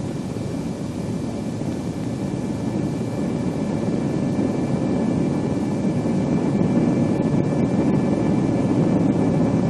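Boeing B-47 Stratojet jet bomber on landing approach, a loud, steady, unbroken jet roar that holds constant with no pauses or talking.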